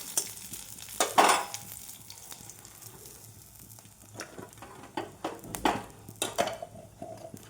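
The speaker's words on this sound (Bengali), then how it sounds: "একটা শুকনো লঙ্কা দিলাম, আর 5 ফোড়ন দিলাম।" Dried red chilli and five-spice tempering in hot oil for a sour fish-roe and hog-plum dish, a quiet crackling sizzle broken by several louder spatters and utensil scrapes, close and alone.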